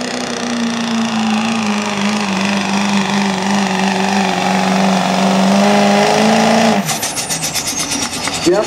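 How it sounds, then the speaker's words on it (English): Turbocharged truck in a heavy class truck pull, a loud sustained engine drone building boost, then launching hard into a rougher, pulsing roar near the end. "Gonna get the turbo spinning, build up a little boost, come out of the hole hard."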